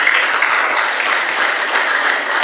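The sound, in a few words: audience applause, clapping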